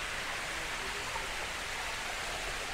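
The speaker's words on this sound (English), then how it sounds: "I think the sound of water is one of the most relaxing sounds." Water flows steadily in a park fountain or stream in Sapporo, a soft continuous wash of noise at moderate distance, with no voices.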